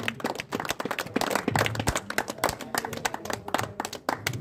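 An audience claps for Shyam ji at a VPL 6 cricket event, a dense, irregular burst of many hands clapping that rises and falls over several seconds, close and lively.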